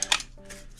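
Metal tire spoons for a DIY tire change clank together in a brief close rattle, one sharp clink followed by a lighter jingle.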